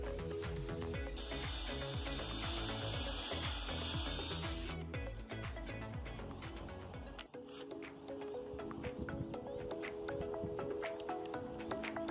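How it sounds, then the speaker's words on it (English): A power drill ratchets and whirs in repeated bursts as large bugle screws are driven into a timber deck frame, loud and close, with clicking and grinding mechanical texture throughout. "pre-drill 2 holes for each corner and join that corner together with 2 large bugle screws"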